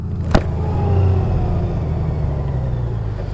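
A Honda Gold Wing 50th Anniversary motorcycle rumbles at low speed under a rider, with a steady engine drone and road noise and a brief sharp knock near the start.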